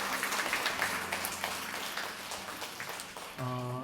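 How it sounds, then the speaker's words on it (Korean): A church congregation during Sunday worship claps to welcome visiting young friends, a soft, moderately dense patter of hands that fades before a low tone enters at the end. "우리 온 친구들 박수 한번 좀 쳐드릴까요?"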